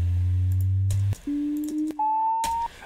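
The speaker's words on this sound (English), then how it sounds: "That's our original sweep." Sine sweep test tone used for capturing a guitar cabinet impulse response, a clean steady pure tone stepping upward in pitch in distinct stages, played alone at moderate volume with brief gaps.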